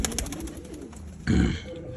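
Pigeons give a short, low, throaty coo that swells near the end, a single close call over faint background noise.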